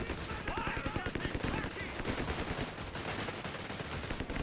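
Automatic gunfire from Company of Heroes 3 hammers out as dense rapid bursts throughout, loud and continuous, mixed with battle noise and voices underneath.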